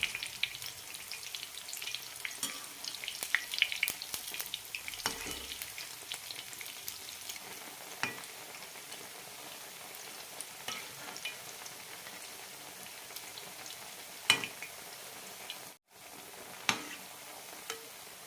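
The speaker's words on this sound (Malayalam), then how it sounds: "മീഡിയം ഫ്ലെയിമിൽ വറുത്തെടുക്കാം." Sweet bonda fritters frying in hot oil over a medium flame, giving a steady close sizzle with scattered pops and crackles throughout and a few sharper utensil clicks near the end.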